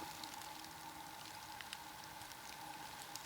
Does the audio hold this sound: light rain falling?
yes